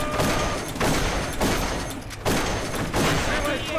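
Video game gunfire from the shooter Darkest of Days, a sustained loud barrage of shots with bursts recurring roughly every second, dense and continuous throughout.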